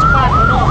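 An ambulance siren wails loud and close in road traffic, its pitch sweeping up and down in a smooth, continuous rise and fall.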